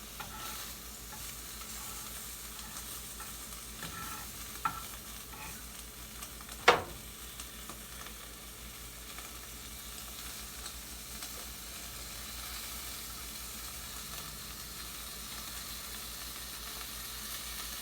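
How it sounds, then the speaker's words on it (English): Food frying and sizzling in a pan, heard as a faint, steady crackling hiss that runs throughout, with one sharp click near the middle and no talking. "That sizzling sound."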